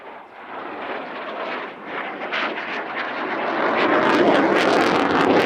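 A Eurofighter Typhoon jet fighter roaring through an airshow display at Cosford, a broad, continuous engine rumble and whoosh that swells louder as it nears, with no talk.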